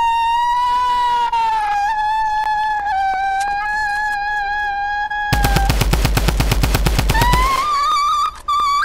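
A video game rifle fires a rapid automatic burst of about two seconds, each shot distinct and loud, over a steady high siren-like warbling tone that runs before and after.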